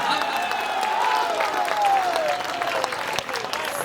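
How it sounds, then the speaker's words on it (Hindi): Loud applause from the audience at a Hindi poetry recital in Mirzapur, a dense, sustained roar of clapping crowd with a faint voice or tone drifting through it. "जोरदार तालियां हैं"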